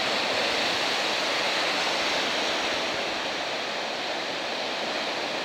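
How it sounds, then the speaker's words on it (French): Ocean waves breaking along a beach near a sandbank, a steady, broad roar of surf that stays loud and continuous with no distinct individual crashes and no voices. "des vagues de large, des vagues de bord."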